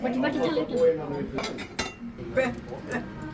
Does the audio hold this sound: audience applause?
no